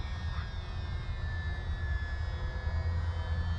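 A tiny Pitts model aircraft flies just after takeoff from a runway, its small engine giving a steady, thin whine with a constant low rumble and no speech.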